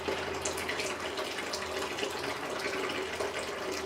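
Sweet wort runs steadily off an all-grain mash during first runnings, a continuous soft trickle and splash of liquid at low level with no pauses and no talk.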